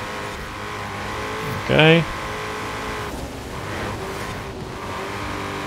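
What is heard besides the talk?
Ford Mustang GT car engine driving in video game Forza Horizon 4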